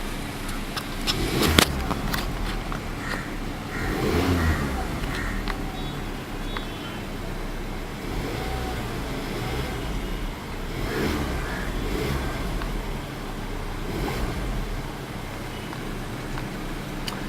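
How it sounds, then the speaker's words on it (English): A 2017 Audi Q3 30TFSI engine revving nearby, a sustained steady drone with a few mild surges rather than sharp bursts, heard alone without talking. "Let's give it a quick rev."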